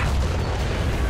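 A tank shell explosion in the War Thunder video game, heard as a single brief, loud, dense blast with a heavy low rumble filling the whole moment.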